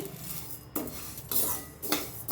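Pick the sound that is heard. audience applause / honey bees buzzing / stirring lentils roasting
stirring lentils roasting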